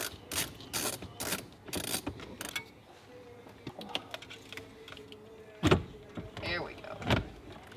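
A hand ratchet clicks in short bursts while loosening 10mm bolts beneath the head unit of a 2019-2025 Toyota Corolla, with the sharp ticking close by amid faint rustling and handling noises.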